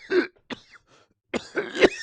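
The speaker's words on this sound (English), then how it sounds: "How long have you had that cough?" A voice performs a harsh, raspy fit of coughing and throat clearing in bursts, close up, with short pauses between the bursts.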